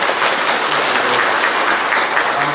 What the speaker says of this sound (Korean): 수고하신 모든 학부형님들께 감사의 박수 한번